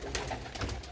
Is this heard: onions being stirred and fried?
no